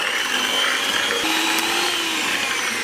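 An electric whisk whips cream and mascarpone for a strawberry yogurt cheesecake, a steady, loud motor whine running without pause, with a brief pitch shift as the beaters work through the mixture.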